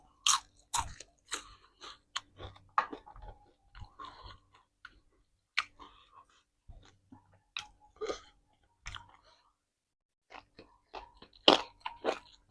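Fried dried frogs crunch loudly between the teeth in sharp, close bites and chewing, irregular crackles separated by short quiet gaps, with no talking.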